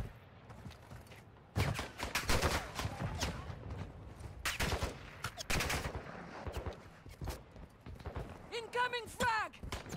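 A player's gun fires in Call of Duty DMZ, loud bursts of rapid automatic shots coming in several separate volleys, with other game sounds and chatter in between.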